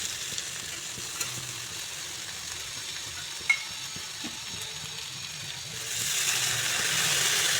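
Eggplant pieces fry in a pan on a gas flame, then broth is poured in for a mola fish curry: a soft, steady sizzle with a few light clinks, growing into a louder, brighter hiss near the end.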